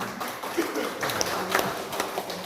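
An audience at a neighborhood RW 04 candidate vision-and-mission gathering claps in a dense, steady patter of applause with faint background voices.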